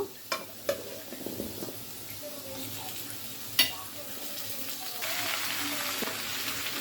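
Bottle gourd is tipped into a pan of frying potatoes, with a few sharp clinks and stirring knocks over a low sizzle that swells into a louder, hissing fry near the end.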